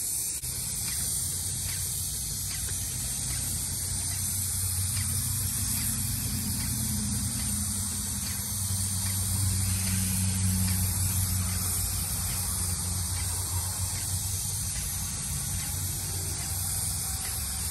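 Titan 440 airless paint sprayer spraying paint in a steady, continuous loud hiss with a low motor hum underneath, unbroken for the whole stretch and with no talking.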